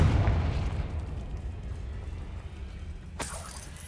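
Booming explosion from a Confringo blasting spell in Hogwarts Legacy, a loud low rumble that slowly decays, followed by a sharp crackling burst near the end, with no talking.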